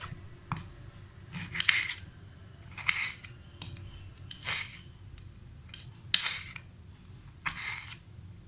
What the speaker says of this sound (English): We take a tomato. Now cut it into pieces.